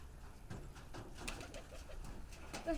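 Pigeons coo softly inside a loft where a hen is nesting with newly hatched chicks, with a few low, throaty calls and faint rustling at moderate distance and no talking.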